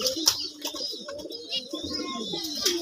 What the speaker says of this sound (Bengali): এটা হচ্ছে তিলা ঘুঘু, বাট আর এটা হচ্ছে নিচেটা হচ্ছে রাজ ঘুঘু